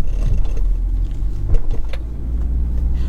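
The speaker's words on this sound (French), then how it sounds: "On entend que mon moteur." A 2001 BMW 730d diesel engine runs steadily from inside the cabin, a low continuous rumble with faint mechanical ticks and no talk.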